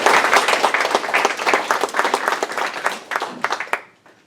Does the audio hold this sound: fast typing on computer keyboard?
no